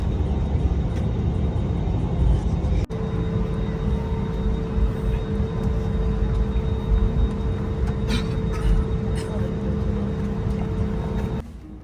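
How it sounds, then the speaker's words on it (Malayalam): Steady, loud roar of an Air India Express airliner cabin during takeoff on a Kochi to Dammam flight, broad engine and airflow noise filling the whole clip with a brief dip near the three-second mark and no talk. "അങ്ങനെ നീണ്ട കാത്തിരിപ്പിന് ശേഷം ഫ്ലൈറ്റ് ടേക്ക് ഓഫ് ചെയ്യാണ്"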